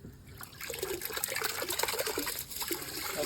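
An electric water pump set in a pond sends out a steady stream of gushing, splashing water, rough and continuous throughout with no voices.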